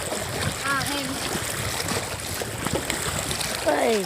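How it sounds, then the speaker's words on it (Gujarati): Water gushing at Brahmani dam, a broad steady rushing roar with splashing, heard outdoors under bits of voices. "આ બ્રાહ્મણી ડેમનું પાણી કેવું ઉકરા નાખે"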